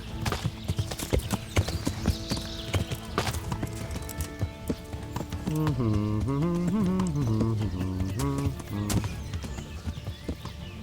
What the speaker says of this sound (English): I've got a horse and you don't.